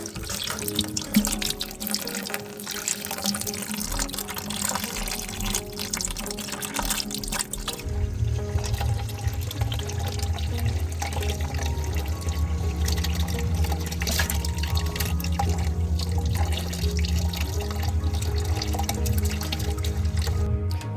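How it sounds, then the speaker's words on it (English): A bleed valve on a towel radiator releases air and water in a continuous hiss and trickle that deepens into a steadier, lower gush partway through, close and fairly loud. "slowly open the bleed off valve. And we've got some air flowing."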